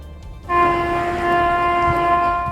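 A loud, sustained train horn blares a steady chord over low rumbling, starting abruptly and holding for a couple of seconds.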